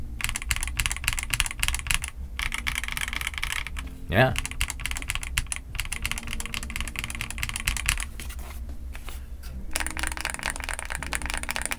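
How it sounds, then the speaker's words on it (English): XVX S K80 mechanical keyboard with Outemu switches typed on quickly, a dense run of clacky keystrokes close up, with a brief word spoken partway through. "if the Outemus are being a little bit clackier than the Milky Yellows might be"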